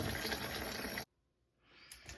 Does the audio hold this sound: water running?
yes